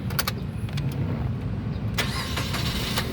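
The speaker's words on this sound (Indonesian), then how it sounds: "sekarang kita coba nyalakan mobil ya" A 2018 Suzuki Karimun Wagon R 1.0 manual engine cranks and catches, settling into a steady low rumble with a few sharp clicks, recorded close up.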